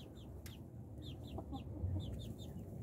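Chickens cluck softly in a coop at night during a winter snowstorm, a run of quiet, repeated chirping clucks spaced across a faint, steady background.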